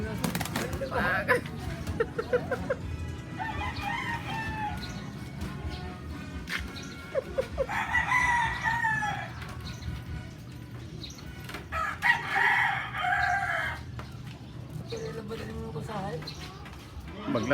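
A red rooster crows several times in long, loud, nearby calls that stand out over clucking fowl, while people talk in a rural yard.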